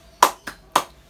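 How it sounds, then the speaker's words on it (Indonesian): A classroom group performs a rhythmic spirit clap, three sharp, close, unison claps in a quick pattern with short gaps between them. "Tepuk semangat."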